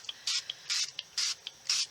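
Tinsel Blue ink sprayed from a pump bottle onto white cardstock scraps, four brisk hissing bursts in a steady rhythm, each followed by a short click of the nozzle, close and fairly quiet.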